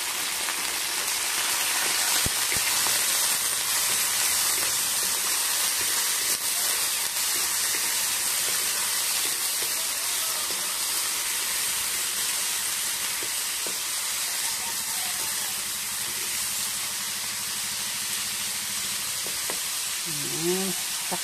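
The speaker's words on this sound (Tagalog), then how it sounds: "Ayan po yung ating ricado guys. Gisahin muna natin. Lutoon. Medyo brown na." Aromatics (ricado) sautéing in a pan until browned over an outdoor breakfast fire, a steady dense sizzle and hiss running continuously and evenly throughout, close and fairly loud, with no voices.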